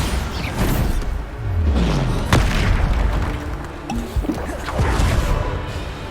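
Repeated Bombarda spell explosions in Hogwarts Legacy combat, heavy close booms with sharp cracks and swooshing sweeps layered over continuous rumbling battle noise, several blasts across the stretch without talk.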